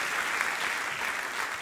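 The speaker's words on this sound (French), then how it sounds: "On peut l'applaudir aussi, merci Julien." Dense, steady clapping from a theatre crowd at a comedy show, loud and continuous throughout the short stretch with no pauses.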